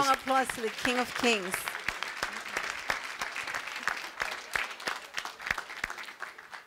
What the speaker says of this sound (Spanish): ese fuerte aplauso al Rey de Reyes